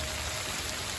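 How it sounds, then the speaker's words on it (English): Heavy rain falling outdoors in a backyard, a dense steady hiss of drops hitting surfaces, close and continuous for a brief moment with no voices. "raining hard"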